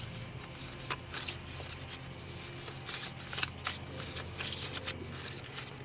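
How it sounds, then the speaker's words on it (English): A deck of playing cards is shuffled during a tabletop card game, a close, continuous riffling and rustling with repeated crisp bursts, heard alone without talk. "Let's shuffle them."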